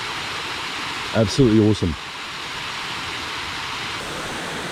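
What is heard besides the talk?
waterfall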